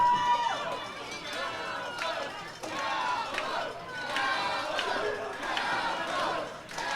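Wrestling crowd in Uniontown rallies behind Cowpoke Paul, a loud, surging mass of cheers and shouts rising and falling in waves, with talk running underneath.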